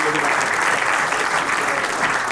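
A large audience claps loudly and steadily at a devotional stage event honoring Lord Ramachandra, the dense applause holding at an even level for the whole stretch.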